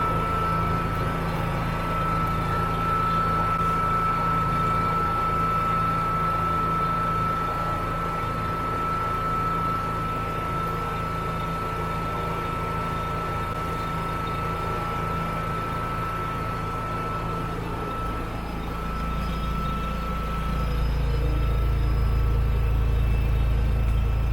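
A Honda EU70is inverter generator idling: a steady, fairly quiet engine hum with a constant tonal whine, holding even for most of the time, then deepening and swelling slightly louder near the end.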